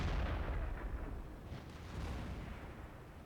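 Artillery gun in the World of Tanks video game firing, a single low, heavy boom that rolls out into a long, dull rumble.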